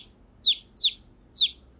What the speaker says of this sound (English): every morning around 5, 6 a.m., I get woken up by the birds